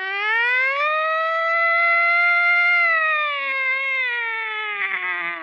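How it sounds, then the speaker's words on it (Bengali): A wailing siren in a dramatic film scene, set during wartime with a plane passing over, rising and holding in a long steady tone before sliding slowly downward, loud and continuous with no talk over it. "সাইরেন বাজছে।"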